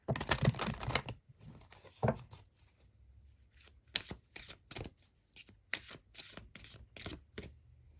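Tarot cards shuffled during a Yule reading: a dense riffle at the start, then a run of short, crisp card slaps and flicks in an irregular rhythm, close and moderately loud, with no talking.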